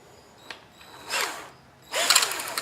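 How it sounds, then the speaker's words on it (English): Two short bursts of a power drill boring a 3/8 inch hole through a lawn chair, each lasting about half a second, with quiet pauses between. "I'm going to drill a 3/8 inch hole right through that last groove."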